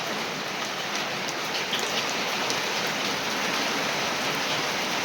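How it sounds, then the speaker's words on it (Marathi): Heavy rain with wind pours down in a steady, dense hiss, with scattered drops striking nearby surfaces throughout, in Buldhana district, India. "बघा खूप पाऊस चालू आहे"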